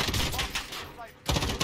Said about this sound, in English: there's people shooting at by that wall